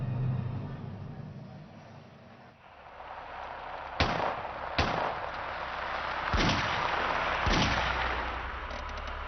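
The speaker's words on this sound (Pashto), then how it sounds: "د ډزو غږونه راځي" Gunfire in a Pashto drama scene with police: four sharp gunshots at uneven intervals over a steady background hiss, loud and fairly close.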